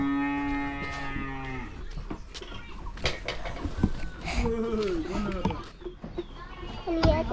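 Several cows, including a dairy cow that has stopped giving milk, moo loudly on a small Nepali farm with goats nearby, long drawn-out calls rising and falling, with people talking over and between them.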